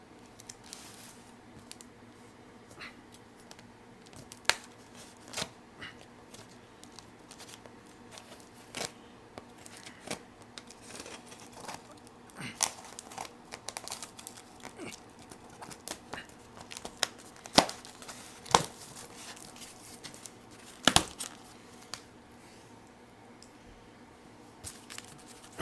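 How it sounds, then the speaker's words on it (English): Scissors snip and cut at a cardboard box holding a Rapido Hudson H1b model train, heard as scattered sharp clicks and crisp cuts with rustling between them, close and fairly quiet over about twenty-five seconds. "I got my scissors here,"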